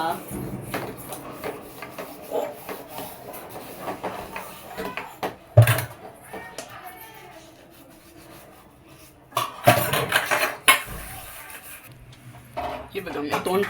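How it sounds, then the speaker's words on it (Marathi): Pots and dishes scrubbed by hand in a home kitchen, giving scattered rubbing, scraping and clattering of metal utensils at close range, with louder knocks around the middle and near the end. "मी भांडी घासते आता."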